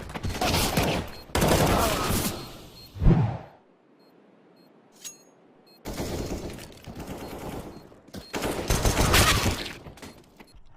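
Rapid gunshots in a first-person shooter, likely PUBG or CSGO, in loud dense bursts separated by a couple of near-silent gaps, with a sharp single shot in between.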